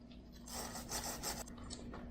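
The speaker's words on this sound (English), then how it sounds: "I'll take a stainless steel brush and clean this off a little." A stainless steel brush scrubs a plated handle from a Bridgeport machine, giving a quiet, close, raspy rubbing that swells in short back-and-forth strokes over about two seconds, with no voices.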